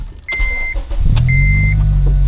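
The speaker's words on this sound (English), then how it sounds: "So we want to get in the car, start it up" A 2006–2011 Honda Civic Si sounds two electronic door chimes, then its engine cranks and catches, settling into a steady idle hum that stays loud to the end.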